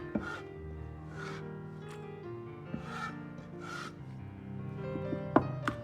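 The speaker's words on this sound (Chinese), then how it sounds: "然后再用刀剁碎，稍微剁细一点，这样更容易出味道" A knife chops steadily on a cutting board, a quiet series of rhythmic taps with a few sharper knocks near the end.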